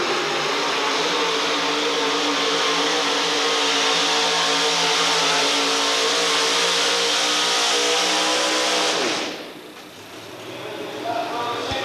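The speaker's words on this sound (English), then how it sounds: "That truck, when it comes down through there, is so loud it almost makes the picture shake on his camera" Loud modified pulling truck, the Fantasy, roaring steadily at full power at a 1987 Outlaws event in Murray, Kentucky, a dense sustained engine blast that cuts off abruptly near the end, leaving quieter crowd ambience.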